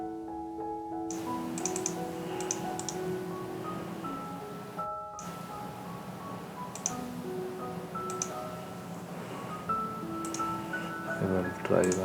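A computer keyboard taps out a server name in short, light clicks that run through the clip under steady tonal background music and occasional talk.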